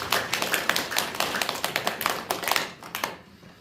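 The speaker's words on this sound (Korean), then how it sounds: "이 격려의 박수 한번 더 드리도록 하겠습니다." Church congregation clapping in encouragement during a Sunday service, a brisk irregular patter of many hands lasting a few seconds before fading out.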